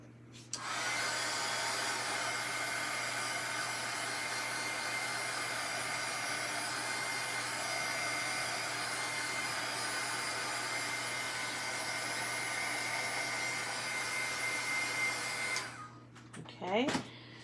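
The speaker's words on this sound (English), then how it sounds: "dry that quick with your heat gun" A heat gun blows steadily as it dries archival ink on a stamped card, a constant whooshing whir that runs nearly the whole time before switching off near the end.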